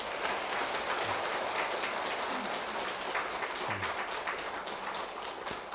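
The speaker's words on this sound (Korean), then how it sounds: "힘써 박수 하나 보내주세요." Steady applause from the congregation at a regular Buddhist dharma service, a dense patter of many hands at moderate distance with a few louder claps near the end.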